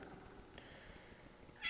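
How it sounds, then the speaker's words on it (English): A cat meows faintly in a garage while a car's tie rods are replaced, a short cry near the end that rises over low background rumble. "And Molly's meowing again"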